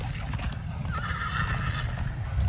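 A horse neighs in the Minecraft Story Mode video game, a drawn-out whinny rising over a steady rumble of hooves and movement, fairly loud and close, with no talk over it.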